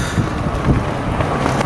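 Wind buffeting a microphone during a cable car ride in Portugal, a steady loud rushing roar with low rumbling gusts and no voices.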